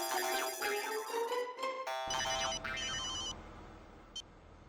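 Telephone ringtone playing a bright electronic melody close by, breaking off partway and followed by a fainter beeping tone and a short blip near the end, with no voices.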